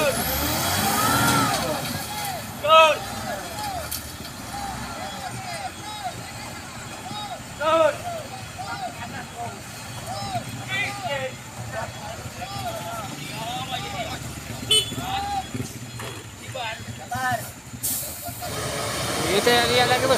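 A Mitsubishi Fuso Fighter X or Hino 280 truck strains up a steep incline, its engine and hissing air brakes blending with a busy crowd and shouting voices throughout.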